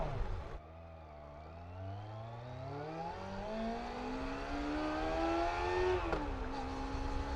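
A Kawasaki ZX-25R motorcycle on a test ride revs its engine, the pitch climbing steadily through the gear, with a brief dip early on and a sharp quickshift drop near the end before it pulls again.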